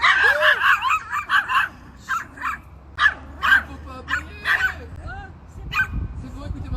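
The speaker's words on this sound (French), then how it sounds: "il y a une dame qui promène son chien, tranquillement" A dog barks and yips repeatedly during a walk through a neighbourhood street, sharp bursts close by, interleaved with people talking nearby.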